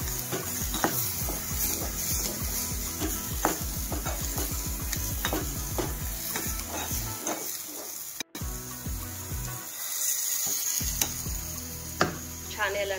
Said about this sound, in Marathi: हे बघा आपली ग्रेव्ही मस्त साईडनं उकळते